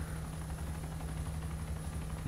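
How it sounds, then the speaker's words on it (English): A military helicopter in flight in the video game Arma II, its rotor and engine making a steady, loud, continuous drone with no talk over it. "I just like flying the choppers."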